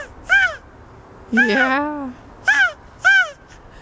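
A voice imitates a crow cawing, four separate throaty caws with pauses between them, close and clear against a quiet background.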